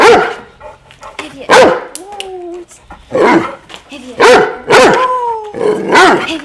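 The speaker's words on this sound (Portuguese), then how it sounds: "A melhor sequência de latido." A dog barks repeatedly in sharp, loud bursts, with a few higher whining yelps between barks, close by.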